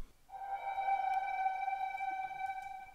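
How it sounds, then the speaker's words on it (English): A sustained tonal pad from the Synplant synth rings out with reverb, a clear steady pitched tone with soft harmonics that swells in and holds alone. "Let's give it its own reverb."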